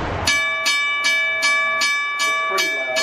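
A locomotive bell on a train simulator clangs in steady repeated strikes, about eight rings spaced under half a second apart with sustained ringing tones, loud and close.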